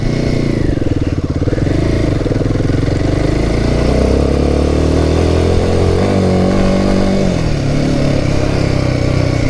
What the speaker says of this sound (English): the engine's nice and revvy and yet torquey as well